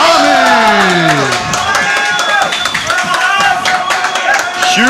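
Large crowd roaring and cheering with scattered clapping as a purple-belt grappler enters the pit at a grappling event, a loud sustained wall of noise with whistles throughout.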